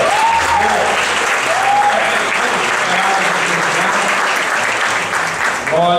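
A church congregation applauds during a worship service, a dense, steady wash of clapping from many hands that fills the room, with a voice faintly heard over it.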